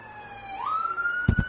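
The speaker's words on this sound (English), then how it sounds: "Every single time I stream, you hear sirens." A siren rises in pitch and holds a steady tone in the background, fairly faint and distant, with a couple of brief low thumps near the end.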